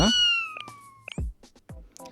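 A cat in the Blue Archive video game meows several times: a long, clear, loud cry first, then a few shorter meows, with no one talking over it.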